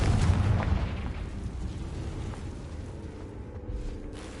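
A Confringo fire spell blast in the video game Hogwarts Legacy: a loud, booming burst at the start that rumbles and fades into a lingering roar.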